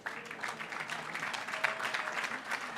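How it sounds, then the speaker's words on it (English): Audience applause for honorees at a school board meeting, a steady patter of many hands clapping, moderately distant and even, with no speech over it. "Audience, please give a warm applause to all of our honorees one more time."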